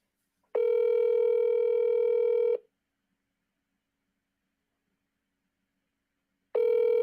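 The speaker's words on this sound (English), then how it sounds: "So I'm going to get him on the phone right now." An outgoing phone call rings while waiting for an answer, a steady electronic ringback tone lasting about two seconds, then a four-second silence before the next ring begins, clean and close with no talk.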